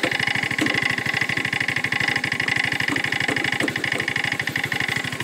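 Volkswagen Beetle engine fitted with a motorcycle gearbox, running steadily at a close, loud, even idle with a continuous rhythmic putter throughout and no talk.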